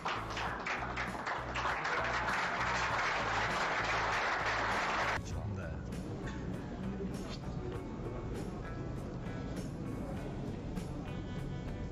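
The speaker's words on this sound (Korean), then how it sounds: "박수!" Spectators at a three-cushion billiards exhibition break into applause, a dense burst of clapping for about five seconds, then scattered taps and room noise with faint talk as it dies away.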